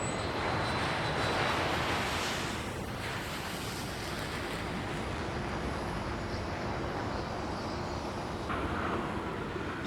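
A jetliner takes off with a broad, steady roar mixed with wind buffeting the microphone, heard alone and constant throughout.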